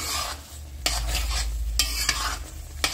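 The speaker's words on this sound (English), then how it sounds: "Mix that in." A tablespoon of Worcestershire stirred into a mashed potato bake mixture, with soft wet churning and a few sharp utensil knocks against the dish over a low background hum.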